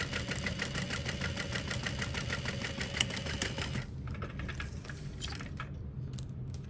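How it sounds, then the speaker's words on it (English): Sewing machine stitches steadily along a folded fabric edge of a small knapsack, a fast even whirring rhythm that stops partway, leaving faint clicks and handling noise. "I'm just gonna sew along that folded edge"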